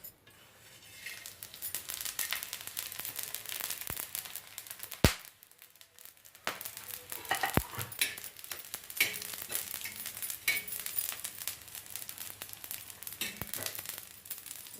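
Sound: spices and roasted coconut being dry-roasted in a pan

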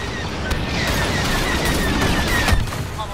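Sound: starfighter weapons firing in video game Star Wars Battlefront II

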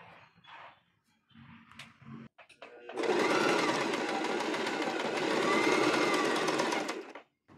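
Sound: sewing pieces of a crochet dress together

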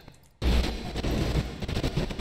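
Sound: gunfire in GTA roleplay video game

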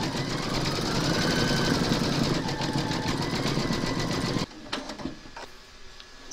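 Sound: embroidery machine stitching buttons in white thread

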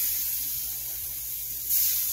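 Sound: sea robin fillets sizzling in melted butter in pan

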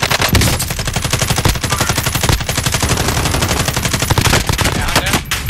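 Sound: gunfire in Call of Duty Warzone video game

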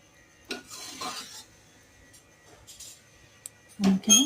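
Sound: stirring dal in a pot

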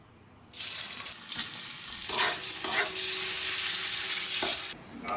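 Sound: marinated chicken frying in oil

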